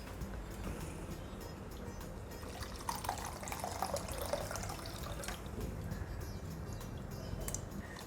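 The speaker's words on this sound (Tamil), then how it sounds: "இப்போ இந்த புளி ஜலத்தை விட்டுடலாம்." Tamarind water is poured into a pan of oil-fried spice powder for vatha kuzhambu, making a soft continuous splashing and gurgling that swells briefly midway, close and low in volume.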